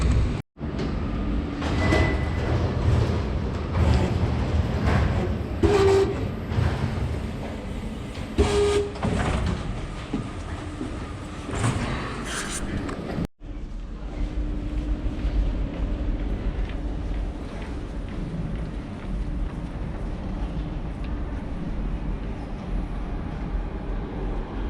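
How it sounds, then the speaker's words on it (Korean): Barcelona metro train in an underground station, a rumbling, clattering rush with squeals and knocks, followed by a sudden cut to a steadier low hum of the platform or carriage. "지하철을 기다리고 있고,"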